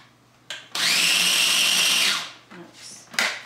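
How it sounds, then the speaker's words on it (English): Food processor or blender whirring loudly in short bursts: a brief pulse, then a sustained whir of over a second that winds down, followed by quieter spins and another short burst while blending Italian green sauce for zucchini pasta. "It's going to get a little noisy in here. I'm just going to give this a little twirl"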